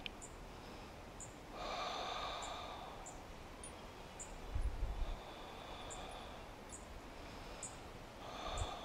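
Slow, audible breaths during a morning yoga stretching session, long exhales and inhales rising and falling in a calm rhythm, with a soft sniff of air near the middle and faint quiet background between breaths.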